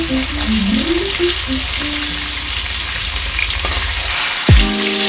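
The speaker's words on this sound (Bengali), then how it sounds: "এরকম করে মাছগুলো সব সুন্দর করে ভাজা করে নেব।" Hilsa fish pieces frying in hot oil in a pan, a steady close sizzle with occasional stirring clatter; a person talks quietly over it for much of the time.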